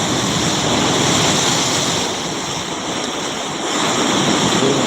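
Rough surf pounds the shore at Kottakkuppam beach, a loud unbroken roar of crashing waves with wind buffeting, swelling and easing slightly midway.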